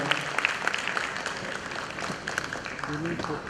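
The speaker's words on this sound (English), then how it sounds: "Big round of applause for Shreyan" Audience applause for a student at a school talk on technology in education, a steady broadband patter of clapping at moderate level with voices mixed in underneath throughout.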